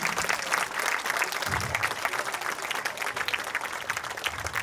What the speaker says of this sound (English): So huge round of applause again.